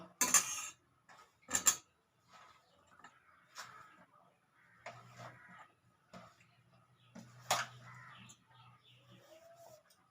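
A teaspoon clinks against a bowl as ingredients are added one by one, giving a few bright metallic taps and scrapes amid quieter handling noises, with a low hum in the background.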